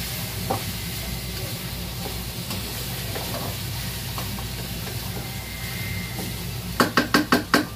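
Pork binagoongang stirred in a frying pan gives a steady, loud sizzle with scraping stir strokes, ending in a quick run of five sharp utensil knocks against the pan.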